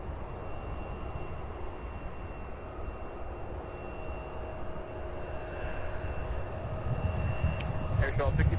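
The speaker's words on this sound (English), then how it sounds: "This is Delta Flight 228, Boeing 767-400 heading to Paris." A 22-year-old Delta Boeing 767-400 at Cincinnati/Northern Kentucky airport, flying to Paris, gives a low, distant jet rumble under steady talking, swelling louder toward the end.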